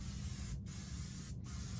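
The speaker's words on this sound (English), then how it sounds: "we're going to spray the rest of the wood back here." Spray adhesive glue hisses steadily from a can onto foam and wood for a cushion, a close continuous spray broken by two brief pauses.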